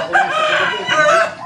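Chickens at a rural home give short, close clucking and crowing calls in two quick bursts, loud and alone.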